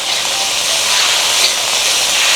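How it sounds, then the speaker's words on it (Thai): Razor clams hit hot oil in a wok for a quick fry, giving a steady, loud, dense sizzling hiss that holds unchanged throughout with no talk. "เอาหอยหลอดผัดกับน้ำมันก่อนคล้ายๆเหมือนทอด"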